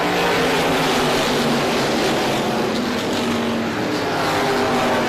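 Race cars in a short-track event come out of the corner at the green flag, a loud, continuous roar of several engines that holds steady throughout without pause.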